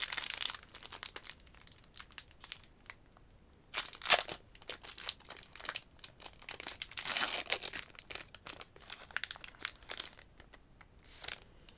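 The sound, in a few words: booster packs of trading cards being opened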